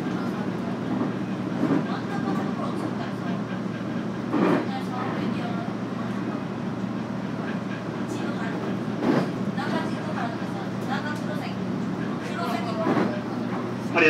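Inside a Series 811 local train bound for Mojiko between Orio and Kokura, a steady rolling rumble with periodic rail clatter and brief bursts, with a voice speaking intermittently over the running noise.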